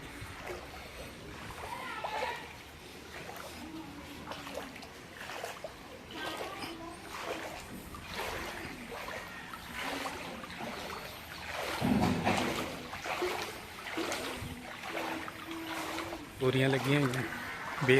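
Floodwater in Barian Kalan village flows and splashes steadily nearby, with irregular sloshing and trickles running under voices talking throughout.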